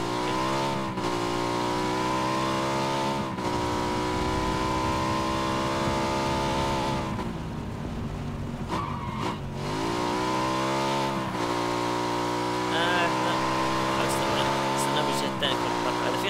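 A motorbike engine in the video game PUBG drones and revs steadily, loud and close, with pitch sweeps as it accelerates and eases off, while people talk over it.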